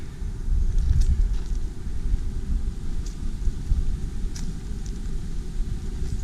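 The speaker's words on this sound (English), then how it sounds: "It'll be a little windy." Wind buffets the microphone at a hilltop prairie overlook above a river valley, a steady low rumble with gusts swelling throughout and no one speaking.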